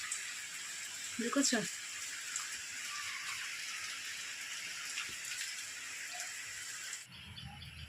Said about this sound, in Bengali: এই দেখো কত জোরে বৃষ্টি হচ্ছে